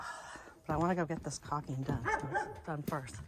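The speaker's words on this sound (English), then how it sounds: "My poor neighbor, sorry about the barking." A dog barks and yips in short bursts close by, mixed in with someone speaking over it.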